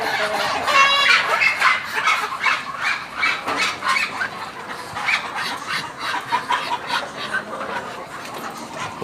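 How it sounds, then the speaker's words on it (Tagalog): Large crossbred chickens of Cantonese F1 and Rhode Island Red stock cluck loudly and continuously in a yard, with a rooster crowing once near the start among the busy flock chatter. "ang manok ko rito malalaki."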